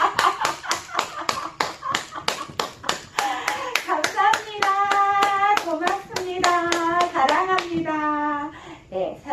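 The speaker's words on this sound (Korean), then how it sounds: "박수 한번 쳐주세요" Sustained applause from a group for an instructor during a brain-health exercise broadcast, rhythmic hand claps that build up, with a voice speaking over the clapping partway through.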